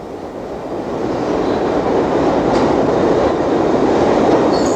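A subway train rumbles loudly and continuously, a deep rolling roar that swells slightly as it runs on, with faint wheel squeal.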